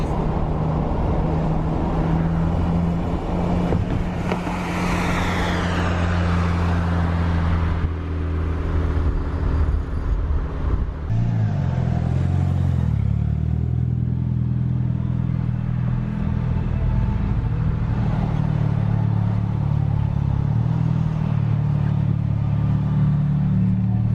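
Mitsubishi Lancer daily car driving on the road, a steady loud engine rumble and road noise from inside, with a gear change partway through and the drone settling lower as it cruises on.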